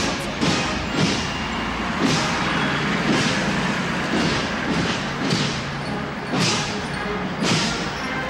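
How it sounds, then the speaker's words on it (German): East German military transport vehicles roll past at a 1984 parade, a continuous heavy engine rumble with recurring dull thumps and hisses roughly every second, fairly loud and close, with no speech. "Auch hier folgen Transport- und Landfahrzeuge."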